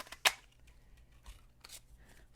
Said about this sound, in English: I'm going to cut the other oval